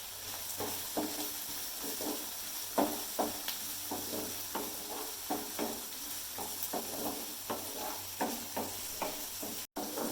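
Tomatoes and capsicum with a country chilli fry in a pan while being stirred, giving a steady sizzle with repeated soft scraping strokes and occasional knocks of the spoon, close and moderately quiet.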